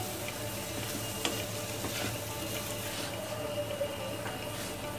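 Moong dal roasts in ghee in a kadhai for halwa, giving a soft, continuous frying hiss with light scrapes and taps of stirring, fairly quiet and close.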